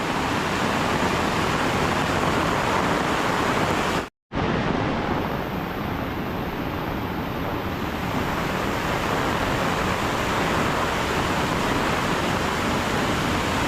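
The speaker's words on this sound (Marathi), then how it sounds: "पुन्हा एकदा बघा जोरदार सर आले पावसाचे" A dense, unbroken hiss of heavy rain fills the air, loud and constant, with a brief moment of silence early on.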